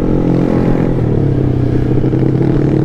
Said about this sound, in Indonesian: mau gue betot motor langsung ngejambak banget anjir, baru gas sedikit doang